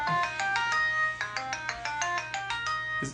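A cell phone ringtone plays a bright, repeating electronic melody at moderate volume inside a mosque during Friday prayers, with no talking over it.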